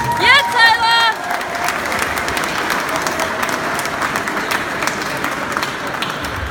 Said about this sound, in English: give a warm round of applause for Tayla